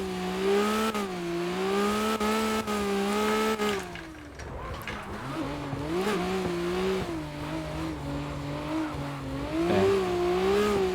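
A 750whp RB26-powered Nissan R32 GTR accelerates hard on track, its engine note climbing and shifting through gears, loud and close, with a brief lift and tire noise before it pulls again.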